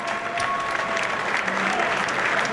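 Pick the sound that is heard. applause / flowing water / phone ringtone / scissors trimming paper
applause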